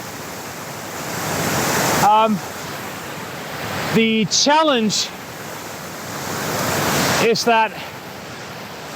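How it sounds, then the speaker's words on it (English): Steady broadband rush of a waterfall on Vancouver Island, with spray in a wooded setting, close and continuous throughout while someone speaks briefly in a few short bursts over it. "the spray of the waterfall is going to get the lens wet just like that."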